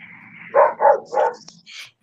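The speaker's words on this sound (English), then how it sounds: "She's barking at something out the window." A pet dog indoors gives three quick, loud barks in a row followed by a softer yip, with faint background hum and no talk.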